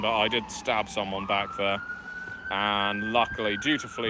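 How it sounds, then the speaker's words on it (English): An emergency vehicle siren wails as a long steady tone that rises and holds, audible under continuous close speech across most of the clip. "I do apologize for the siren,"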